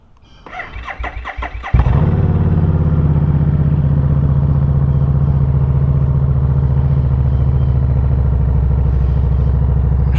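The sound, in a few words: Harley motorcycle engine starting and idling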